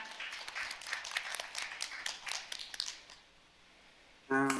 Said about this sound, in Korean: 여러분 뜨거운 박수로 환영해 주시면 감사하겠습니다.